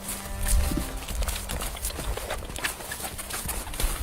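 A horse made to circle, with repeated hoof clip-clops on the ground at a brisk uneven pace, fairly near but moderately quiet, with some faint background noise.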